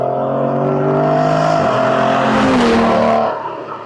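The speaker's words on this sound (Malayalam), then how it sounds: "നാച്ചുറൽ ആസ്പിറേറ്റഡ് ആയിട്ടുള്ള വി ട്വൽവ് എഞ്ചിനിൽ ഉണ്ടാകുമ്പോഴുള്ള ഏറ്റവും വലിയ advantage which is what enjoying now" The naturally aspirated V12 of an Aston Martin Vanquish pulls hard and loud under acceleration, its rising drone broken by a quick gear change before climbing again and easing off, with no one speaking.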